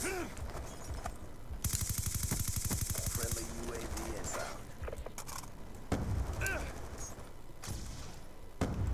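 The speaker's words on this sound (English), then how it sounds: "Man, this is a fucking epic gunfight." Video game gunfight with rapid machine-gun bursts rattling for a couple of seconds, followed by scattered single shots and booms, loud and close, with a voice talking at times.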